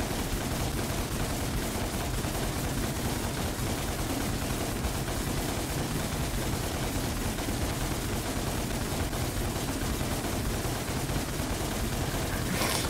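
Dense, continuous gunfire in a shooter video game, a steady wall of rapid shots and blasts at constant loudness from start to finish with no pauses.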